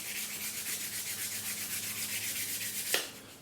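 A lightweight sanding block rubs over a glider's wing tips in quick, even back-and-forth strokes, a soft, close scratching rhythm with a small knock near the end.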